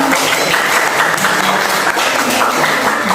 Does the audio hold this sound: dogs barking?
no